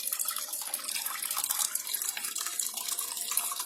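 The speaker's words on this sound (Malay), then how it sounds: "air akan disedot dari motor melalui getah paip untuk mengalirkan air ke pokok sayur-sayuran ini" Water from an aquarium is pumped by a motor through a hose to vegetable plants in a solar-powered aquaponics setup, giving a faint, continuous hiss of running water.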